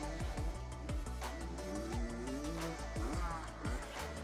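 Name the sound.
motorbike accelerating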